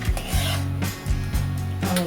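A metal spatula scrapes cooked okra (bhindi bhaji) out of a pan for serving, giving several rasping strokes in a loose rhythm, close and fairly loud, with no talk.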